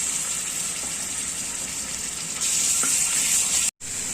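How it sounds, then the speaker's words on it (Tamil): Ginger garlic paste sizzles in hot oil with a steady, hissing fry that grows louder partway through, then cuts out briefly near the end. "இப்போ இதே எண்ணெயில நம்ம கொஞ்சோண்டு இஞ்சி பூண்டு பேஸ்ட் சேர்த்துக்கலாம்"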